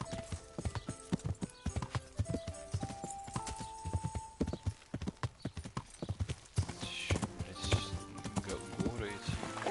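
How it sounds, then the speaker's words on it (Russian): Horse hooves clip-clop steadily during riding in the Kingdom Come video game, with a brisk, close, rhythmic beat of hoof strikes and an occasional whinny over faint background music. "Лошадка, поехали."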